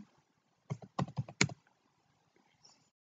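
A few quick keystrokes on a computer keyboard while using library management software, a short cluster of clicks standing alone in near silence, then a faint click.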